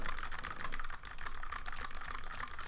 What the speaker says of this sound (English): my clicky ass keyboard going crazy